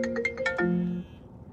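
A phone ringtone sounds as a listener calls in to a live show: a short, bright melodic run of rising tones that ends in a held note and fades, with no voices over it.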